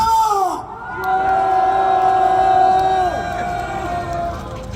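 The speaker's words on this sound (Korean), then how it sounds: "함성 5초간 발사!" Protest rally crowd in Pohang shouting together in a sustained roar for about five seconds, loud and continuous with a few voices standing out.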